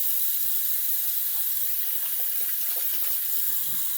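Tap water runs steadily into a sink during a post-shave rinse, a broad even hiss with faint splashing and a few low thumps toward the end, no voices.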